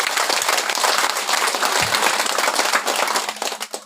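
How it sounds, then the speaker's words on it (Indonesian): Dense applause from a political rally audience, loud and steady for several seconds before thinning out toward the end, with no voices above it. "Tepuk tangan untuk kita semua."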